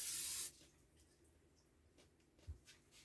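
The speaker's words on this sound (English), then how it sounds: "I'm actually going to be using an olive oil spray." Olive oil cooking spray greases a 9 by 13 inch baking pan: one loud, close hiss lasting about half a second, followed by a quiet kitchen with faint small knocks.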